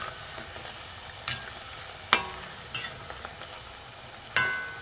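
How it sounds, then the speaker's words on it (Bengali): Milk-soaked bread slices frying in a pan until reddish brown, a soft steady sizzle punctuated by a few sharp spatula scrapes and flips, close up with no voices. "দেখুন, একটু লাল লাল করে ভেজে নেব।"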